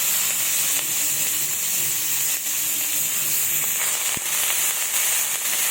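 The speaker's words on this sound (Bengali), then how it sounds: "ওই তেলেই আমি বাঁধাকপি ভেজে নেব।" Cabbage fries in hot oil left over from frying tomatoes, giving a loud, steady sizzle with scattered crackles and pops that runs throughout with no talking.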